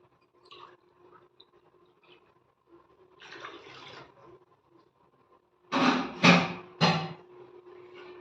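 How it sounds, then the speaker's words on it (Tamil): Water pours briefly into a pan of egg curry in three quick splashy bursts near the end, following a quieter stretch of faint kitchen clatter. "இப்போது தேவையான தண்ணி சேர்த்துக்கலாம்"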